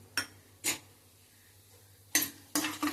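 Several sharp metallic scrapes and clinks of a spoon stirring tempering spices (urad dal, chana dal, cumin, mustard seeds) in a pan, spaced irregularly, with quiet gaps between.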